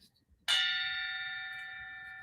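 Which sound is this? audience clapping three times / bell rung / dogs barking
bell rung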